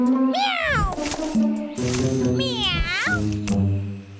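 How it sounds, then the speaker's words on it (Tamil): A cartoon cat in a Tamil children's forest cartoon gives a run of loud, close, voiced meows with rising and falling pitch, three or four calls in quick succession with short gaps. "meow meow"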